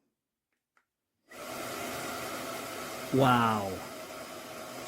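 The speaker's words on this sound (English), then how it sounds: "Quietest vacuum I've ever heard." Dreame Z30 cordless stick vacuum switched on at its low setting, a steady soft whir of air and motor starting after a second of silence and continuing evenly, with a brief word spoken over it.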